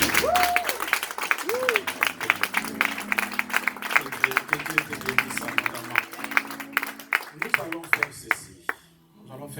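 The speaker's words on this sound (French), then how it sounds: "Est-ce qu'on peut acclamer pour Dieu?" A church congregation claps in dense, continuous applause with a few cheers and vocal whoops, under a sung or spoken voice, fading toward the end.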